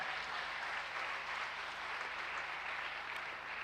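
A church congregation at a worship service applauds and acclaims Jesus, giving steady, dense clapping that holds at an even level throughout, with no voice rising above it.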